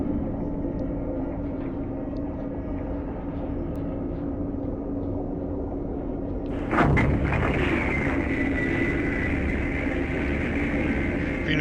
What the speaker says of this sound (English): Torpedo hit and damaged.